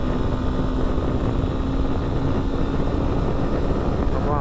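Honda Sahara 300 Adventure motorcycle accelerating hard toward top speed, its engine droning steadily and loudly with a thin whine over heavy wind roar throughout.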